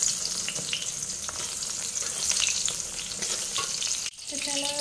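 Papad sizzles and crackles steadily in hot oil in a home kitchen at night, a dense continuous frying hiss with a brief break near the end as something is moved.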